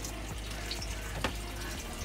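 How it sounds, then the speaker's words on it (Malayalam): Water running from a household tap, a steady soft splashing stream with a faint gurgle, fairly quiet and continuous. "വെള്ളം നിറയട്ടെ."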